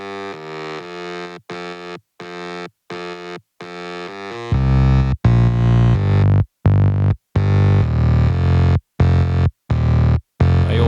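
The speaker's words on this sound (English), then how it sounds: "It's the same bass transposed out by 1 octave and with heavy distortion on" A distorted mid-bass synth line, the same bass transposed up an octave, plays in choppy gated stabs in an electronic dance track. A fuller, heavier low layer comes in halfway through.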